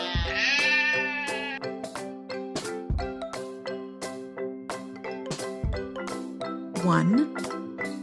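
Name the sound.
sheep bleating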